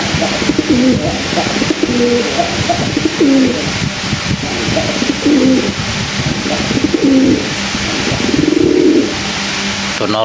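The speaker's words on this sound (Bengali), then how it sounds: "কবুতরের ডাক কীরকম দেখো" A female pigeon in breeding condition coos repeatedly in short rhythmic phrases, each coo a soft throaty rolling call, recurring steadily over a constant background hiss with no talking.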